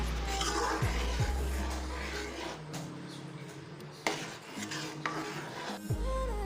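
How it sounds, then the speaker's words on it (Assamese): Rice kheer flavoured with cardamom powder being stirred in a cooking pot, giving soft scraping and rasping of a spoon against the pot with occasional light clinks, close and steady. "এইখিনি এবাৰ ভালদৰে মিক্স কৰি দিম"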